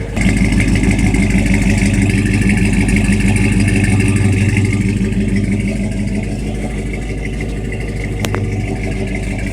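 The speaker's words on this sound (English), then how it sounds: "So right now it's just got the 40 series Flowmaster exhaust on it, and it's honestly a little bit too loud for a daily driver." A Hemi V8 swapped into a car, fitted with a 40 series Flowmaster exhaust, rumbles loudly and steadily up close, holding a deep continuous drone with slight revving throughout, no voices present.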